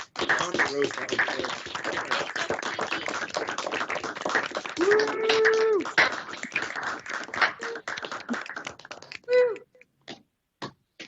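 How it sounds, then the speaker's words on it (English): Scattered hand clapping at a city council meeting for award recipient Katie Brandis, sparse and uneven over voices and talk, thinning out toward the end. "So a round of applause, please, for Katie Brandis"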